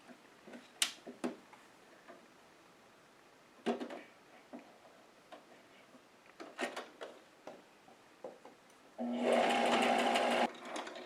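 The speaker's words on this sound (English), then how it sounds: "now I'm going to stitch in the ditch, which is that little seam join spot, all the way around with a slightly longer stitch on a straight." Sewing machine stitching in the ditch along a seam join on a 1930s dress, a loud, steady run of about a second and a half near the end, after scattered quiet clicks and handling taps.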